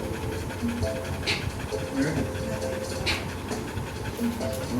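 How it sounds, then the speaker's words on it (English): Rottweiler puppies pant rapidly and rhythmically nearby, the quick breaths repeating over a low background rumble. "let the dogs out"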